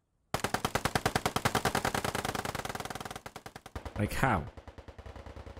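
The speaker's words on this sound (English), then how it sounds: "They're just sort of shooting in this direction, hoping." Rapid sustained machine-gun fire from combat footage, a long close burst of evenly spaced loud shots that slows slightly, followed by further firing, with a brief voice speaking midway.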